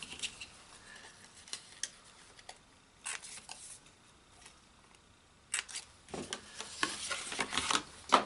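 Sharp snipping clicks of a corner punch rounding the corners of a paper confetti-themed gift card wallet, several separate crisp punches spaced apart, with a burst of rustling paper handling toward the end.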